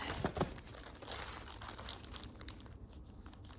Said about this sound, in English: If I can get the baggie open